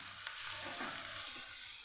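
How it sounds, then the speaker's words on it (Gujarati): Onions with coriander-cumin powder sizzle steadily as they sauté in a pan, with soft stirring scrapes over the hiss and no voices. "સરસ સાતળી લેવાનો મસાલો મિક્સ થઈ જાય"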